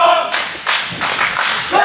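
Wrestling event crowd clapping in a few loud, uneven bursts of applause, with some thuds and voices mixed in.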